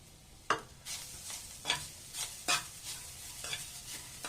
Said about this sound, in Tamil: ஒரு 1/4 கப்பு தேங்காயில் சேர்த்து கொடுத்துட்டு நல்லா முடிஞ்ச அளவு ஸ்லோ ஃப்ளேமில் வச்சுட்டு நல்லா செவக்க அளவுக்கு நம்ம வறுத்து எடுத்துடலாம்